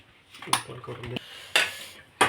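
Spoon clinks and scrapes against a bowl as marinade ingredients for fried fish are mixed, three sharp clatters standing out over soft stirring close by.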